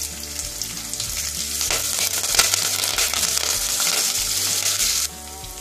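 Green chili and curry leaves sauté in a hot pan for prawn pickle, giving a steady, close, loud crackling sizzle that runs throughout with no one speaking.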